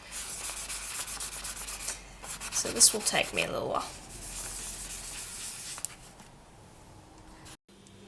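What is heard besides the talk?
sanding polymer clay faux snowflake obsidian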